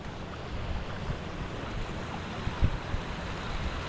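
Waterfalls tumbling near an old, unused sheepfold, a steady close rush of water with a little wind buffeting the microphone.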